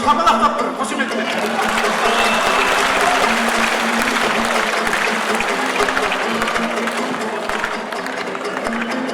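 A large crowd claps loudly and continuously at a 2016 Kazakh aitys, an improvised poetry contest between two poets. A sustained voice runs over the rough, dense applause, with some chatter and laughter mixed in.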